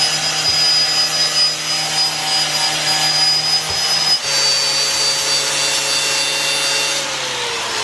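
A power tool fitted with a cleaning wheel grinds over welded metal on a custom GTR exhaust, a loud steady whine that holds for the whole stretch with a brief dip midway and no talking.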